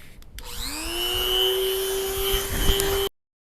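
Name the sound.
Dremel rotary tool cutting plastic bumper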